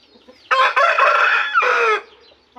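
A fighting rooster crows once, loud and close, in a long drawn-out call of about one and a half seconds, with quiet surroundings before and after.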